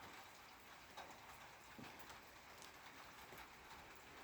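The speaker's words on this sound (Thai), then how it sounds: "ฝนตกขนาดนี้" Steady heavy rain hisses down on surfaces in Norway with a dense, continuous patter, heard faintly from a short distance without any voices.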